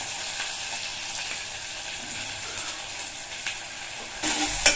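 Crushed curry leaves and onions sizzle steadily in hot oil for a Tamil fish curry (meen kulambu), a close, continuous frying hiss with an occasional stir and a brief louder spatter near the end.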